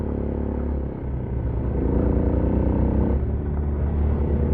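A car in the PUBG video game drives off-road over mud and grass, its engine giving a loud, steady rumble with some clatter throughout, heard alone without voices.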